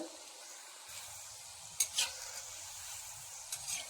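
Jackfruit seeds frying in hot oil for a crispy Kerala village-style fry, a steady soft sizzle with stirring scrapes and a couple of sharper clatters from a spoon moving the seeds, fairly close and fairly quiet throughout.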